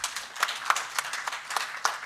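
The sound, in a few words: audience applause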